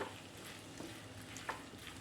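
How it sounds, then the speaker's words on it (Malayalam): Soya chunks masala fries in a pan over a low flame, giving a soft, steady sizzle with a few faint stirring clicks. "സോയ ചങ്ക്സ് ഏകദേശം ഫ്രൈ ആയി വരുന്നുണ്ട്."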